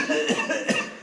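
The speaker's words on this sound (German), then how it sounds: "Ich habe ein bisschen Husten." A man coughs a few times in quick succession, close and fairly loud, in a garage setting where a VW Golf 4 gearbox is being removed.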